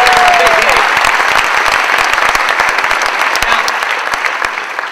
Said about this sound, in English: Everyone's going to clap for you.